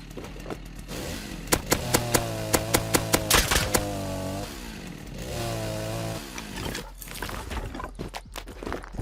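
A chainsaw revs loudly in the survival game Rust, its engine droning with rising and falling pitch, punctuated early by a quick series of sharp rhythmic knocks, then continuing in sustained buzzing bursts alone.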